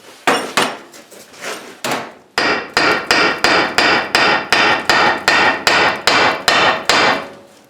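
Steady, evenly spaced hammer blows on a rusted metal universal joint, a dozen sharp ringing strikes in a regular rhythm after a few scattered opening hits, close and loud.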